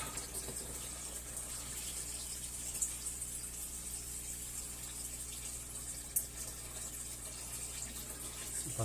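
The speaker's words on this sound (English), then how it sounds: "You pour this in slow, so I don't disturb too much." Water is poured slowly into a 10 gallon aquarium tank from a pail, a faint, steady low gush of filling water with a couple of soft knocks.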